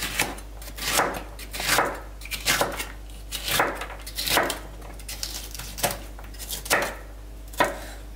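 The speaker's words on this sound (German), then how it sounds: "Alles mundgerecht geschnitten." A knife chopping ingredients for egg salad on a board, a series of about a dozen sharp, close cuts in uneven clusters with short pauses between.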